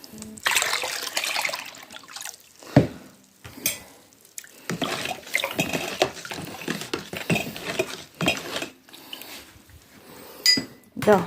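A metal spoon clinks and scrapes against a bowl while Bordeaux mixture is stirred, with irregular tapping and light liquid sloshing nearby.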